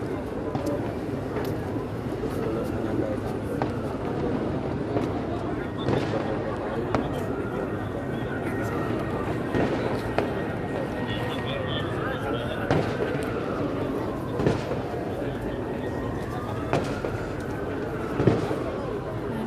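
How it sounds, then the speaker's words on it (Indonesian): Repeated distant New Year's Eve fireworks pops and crackles at Bundaran HI, Jakarta, heard under a voice speaking, with a steady background rumble and occasional whistling rises. "terdengar suara kembang api masih terdengar saat pergantian malam tahun baru 2022."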